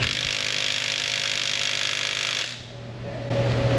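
Cordless impact wrench with a socket on a timing belt job, buzzing loudly and steadily for about two and a half seconds before cutting off, followed by a quieter mechanical hum.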